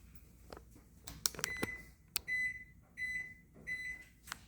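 A series of short electronic beeps, a few quick ones then several longer steady tones, over faint background noise and clatter.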